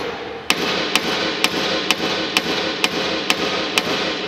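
A small hammer taps out a little dent in a white Fiat Palio body panel. Nine crisp, evenly spaced metallic taps ring out over a steady workshop hiss.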